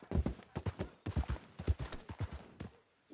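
Horse hooves clip-clop at a steady, quick gait in Red Dead Redemption 2, a run of sharp, fairly close hoof strikes with a brief pause near the end.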